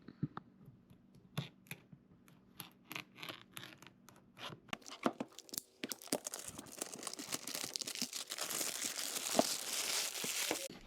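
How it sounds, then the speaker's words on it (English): Box of LS performance fuel injectors being opened, with sparse crinkling and clicking packaging handling that builds into continuous louder rustling and tearing of plastic wrap, close and alone. "we're going to open this box up and we're going to look at the new injectors here"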